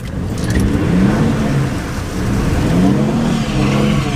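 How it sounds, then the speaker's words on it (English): Car with an open differential revving hard as it tries to skid, a steady loud engine roar with rising and falling pitch and a continuous wash of tire and road noise, no talk. "I'm trying to do a little skid, but it's going to be very hard to drift an open diff vehicle."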